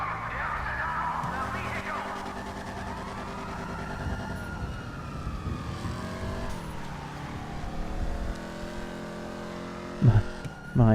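Car engine in the video game GTA revving and shifting through gears, with steady tonal drone and rising and falling pitch throughout, a couple of short thumps near the end.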